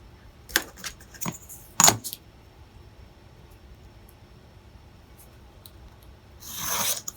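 Paper for a journal project being cut down: a few sharp slicing and rustling strokes close up early on, quiet stretch, then a longer hissing scrape near the end.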